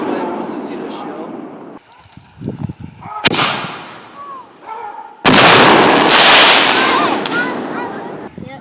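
Fireworks bursting at a fireworks show where people were injured: loud, booming blasts and crackling explosions, with a sharp report partway through and a sustained roaring barrage near the end, while people talk nearby.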